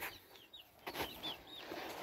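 Young game chicken roosters in hot summer weather giving short, faint clucks and squawks, several scattered calls at a low level with no talk.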